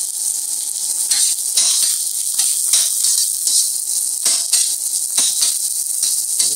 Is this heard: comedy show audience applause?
no